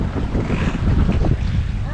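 Strong wind buffets a sailboat off Martigues, a loud, rough rushing roar of gusts hitting the microphone, with no voices.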